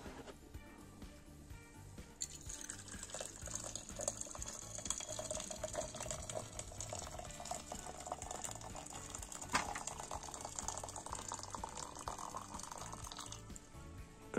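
Boiling water poured from a just-boiled kettle, a steady continuous liquid stream running for about eleven seconds at close range with no talk, ending abruptly.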